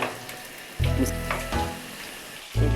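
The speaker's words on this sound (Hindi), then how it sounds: "तेल में कच्चे आमों को अच्छी तरह मिक्स कर लेंगे" Raw green mangoes and spices fry in oil for pickle, a close sizzle swelling in loud bursts as the pieces are stirred and tossed.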